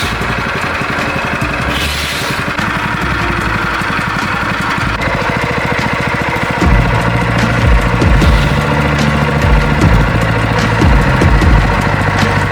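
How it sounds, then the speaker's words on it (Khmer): A Nagata 8.5 hp gasoline engine, started by pull cord, runs with a steady, loud mechanical chug and a dense rattling hum, then shifts to a heavier, throbbing beat partway through. No one speaks. "ត្រូវទាញកន្ត្រាក់ដោយដៃ និងប្រើកម្លាំងខ្លាំងល្មម ដែលអាចឲ្យម៉ាស៊ីនដំណើរការបាន"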